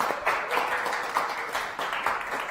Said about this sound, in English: Please give Irajua a round of applause.